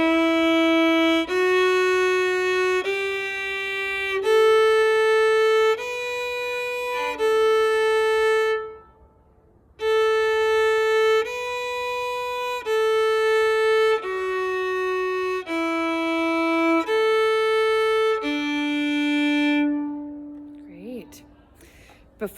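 Bowed strings in a beginner orchestra lesson play a slow series of steady half notes, each sustained about a second, in two phrases separated by a short pause, clear and close with no talking.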